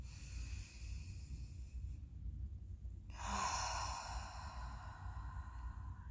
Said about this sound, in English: Take in a deep breath.